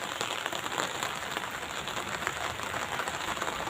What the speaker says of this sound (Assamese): এই বৰষুণ পৰিছে, চাওক বৰষুণত ওলাইছোঁ।